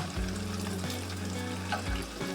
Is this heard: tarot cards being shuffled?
no